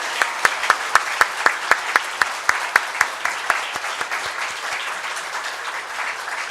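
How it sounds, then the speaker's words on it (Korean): A church congregation applauds in welcome and encouragement, steady crisp clapping from many hands filling a room, with a few sharp louder claps standing out near the start before it settles into an even patter. "격려의 박수로 한번"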